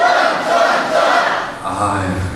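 A crowd at a Rotary district lecture shouts together in a loud unison chant, a brief roar of many voices answering a call, close and energetic.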